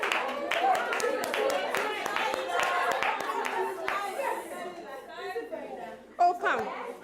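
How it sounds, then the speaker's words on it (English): An audience at a community day claps in a lively burst of rhythmic hand claps, with voices and chatter mixed in and the clapping thinning out toward the end. "let's clap for her"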